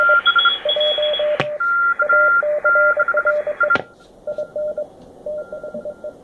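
Morse code CW tones on the 40-meter ham band come through a receiver set to a 3 kHz filter, loud and close. Short and long beeps alternate in a steady keyed rhythm over background hiss, broken by two sharp clicks.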